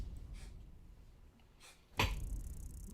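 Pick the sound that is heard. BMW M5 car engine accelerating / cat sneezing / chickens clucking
cat sneezing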